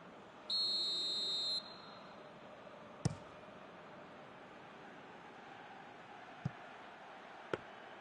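A referee's whistle in a football video game gives one short, loud, steady blast near the start, followed by faint crowd noise and a few sharp thumps.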